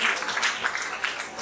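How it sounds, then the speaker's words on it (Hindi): A crowd applauds with a brief, dense patter of clapping from many hands at a moderate distance, at a Hindi poetry gathering in Chandausi. "और अपने लिए तालियां बजा दीजिए"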